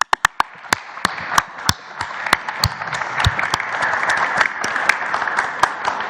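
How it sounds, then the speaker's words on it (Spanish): An audience at a morning press conference breaks into applause, opening with a few sharp separate claps that swell into sustained clapping with a faint voice underneath. "Un aplauso"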